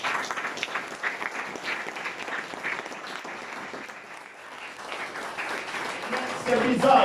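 A church congregation claps and cheers for Christ in dense, continuous applause that dips slightly midway and swells again at the end, with voices mixed in.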